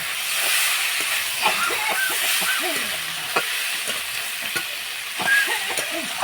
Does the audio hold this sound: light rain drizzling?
no